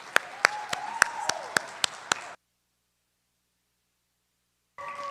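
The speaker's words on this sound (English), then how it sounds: "Please join me in congratulating these graduates with applause." Scattered claps ring out in a small audience at a 2020 WTI Topeka campus graduation, a handful of sharp, separate hand claps over a faint voice before cutting to silence, then a brief tone returns at the end.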